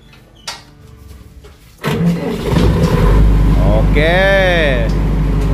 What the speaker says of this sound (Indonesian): Kita nyalakan nggih hargen 22 KVA.